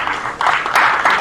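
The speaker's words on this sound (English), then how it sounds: "Please give each other a round of applause." A conference audience claps in a short burst of dense applause that swells louder partway through, close and continuous with no talk.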